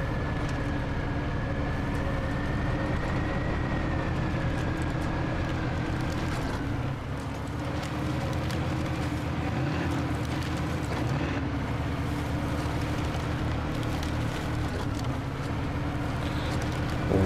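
Truck engine droning steadily in the video game Snowrunner while hauling a trailer off-road, a continuous low rumble with a faint rising whine, close and even, no talk.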